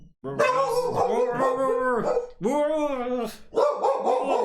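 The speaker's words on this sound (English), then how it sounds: "You gonna start barking?" A dog barks and howls close by, a handful of drawn-out, tonal barks with short gaps between them and no other sounds around.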